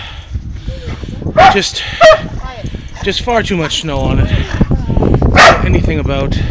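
A cold dog in deep snow lets out excited barks and high whimpering yelps, close and loud, mixed with a person talking over it.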